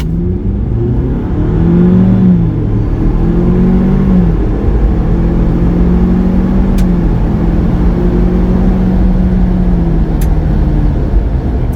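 A Ford car pulls hard at full throttle from a standstill, the loud close engine climbing in pitch, easing briefly through a gear change, then climbing again in a steady drone, no voices.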